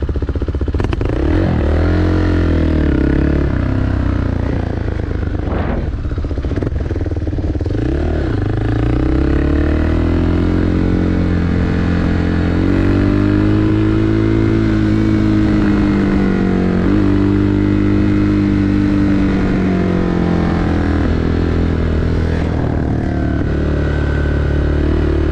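ALP 4.0 motorcycle engine running steadily while riding, with pitch rising and falling through throttle changes and gear shifts, loud and close throughout.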